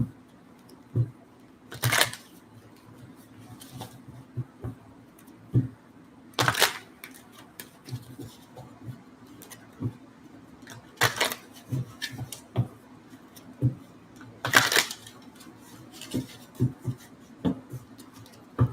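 Oracle card shuffling, with several loud riffle bursts spaced a few seconds apart and soft flicks and taps of cards being handled and pulled between them, up close.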